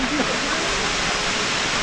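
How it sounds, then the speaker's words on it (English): Brekkefossen waterfall in Flåm, Norway roars as a loud, steady, close wash of falling water that drowns out everything else. "that is a big waterfall. Too noisy here."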